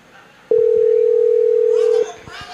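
A single steady phone dialing tone sounds loud and clear for about a second and a half, with faint voices before it and talking starting just as it ends.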